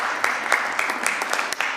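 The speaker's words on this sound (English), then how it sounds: "Get a clap." Members applaud in the chamber of the BC Legislature, a brief burst of steady clapping from many hands with talk faintly mixed in.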